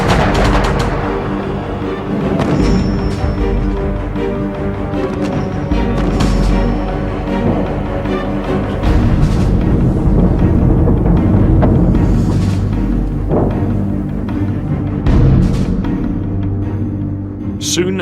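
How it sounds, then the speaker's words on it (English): Heavy artillery bombardment from the Falklands War pounds without pause, with dense booms and rattling gunfire layered into a loud, continuous barrage. "They hammered the remaining enemy positions in a final all-out bombardment."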